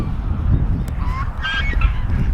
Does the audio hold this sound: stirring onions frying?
no